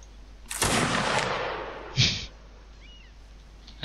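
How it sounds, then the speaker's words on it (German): Musket-style gunfire from Mount and Blade Napoleonic Wars: one loud close shot with a long decaying rumble, then a second sharper shot about a second and a half later, followed by quiet background. "Ein tödlicher Schuss nach dem anderen."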